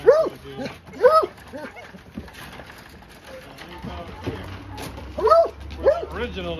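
An English coonhound puppy gives short yips and whimpers in bursts at the start and end of the clip, close by, with people talking in between and under the barks.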